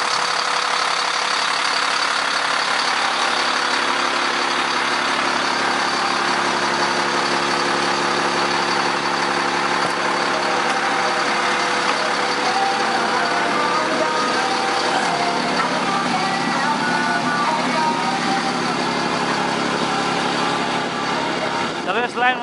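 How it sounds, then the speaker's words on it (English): Two utility bucket trucks idle back to back at a power line job, a steady loud engine drone throughout with faint voices under it. "And now they're using two bucket trucks back to back."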